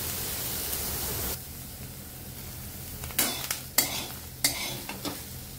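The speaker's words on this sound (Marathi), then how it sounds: "छान असे डाग पडेपर्यंत मी शेंग भाजून घेणार आहे" Green kidney bean (rajma) pods roast in a kadhai until spotted, giving a steady close sizzle that later breaks into several sharp spatula scrapes and clacks against the pan.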